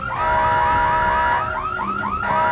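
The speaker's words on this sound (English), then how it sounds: "Red alarm lights began flashing, a wailing siren coming from the PA system." A loud electronic siren wails in repeated rising sweeps, several cycles in quick succession, steady and close with no voices.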